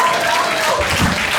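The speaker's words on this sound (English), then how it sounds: "Let's clap for her." A comedy festival crowd claps in a short burst of applause, dense and fairly loud throughout.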